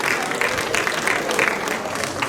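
Brief burst of audience applause for a team at a theology institute graduation ceremony, dense clapping from a crowd with some voices mixed in.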